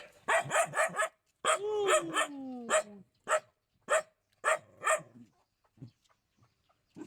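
A dog barks in a rapid series of sharp yaps, with a drawn-out whining yelp in the middle, then fewer, softer barks trailing off.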